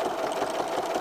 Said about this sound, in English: I'm going to stitch right to the inside of that line by about an eighth of an inch.